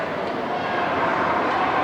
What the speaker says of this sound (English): What a crowd roaring here.